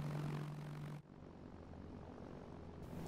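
An airplane engine in the video game ArmA 3 drones steadily in a continuous propeller hum. The tone shifts abruptly after a second, then carries on evenly.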